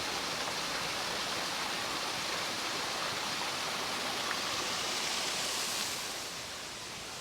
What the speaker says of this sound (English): the sound of these waterfalls is just beautiful